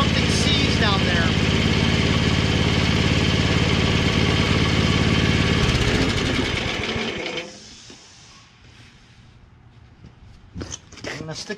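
A Craftsman 522 Tecumseh two-stage snowblower engine runs loud and steady with its auger not turning, then winds down and stops, leaving faint clicks and handling noises.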